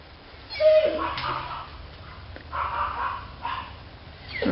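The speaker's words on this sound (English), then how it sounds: "Oh, you have dogs next door barking," Dogs next door bark in a few scattered, muffled bursts at a moderate distance, with someone talking nearby and a quieter stretch between barks.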